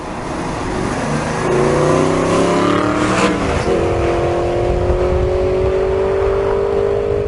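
An Aston Martin V8 Vantage N430's 4.7-litre V8 engine revs up loudly, its pitch rising, then settles into a steady, sustained drone close by.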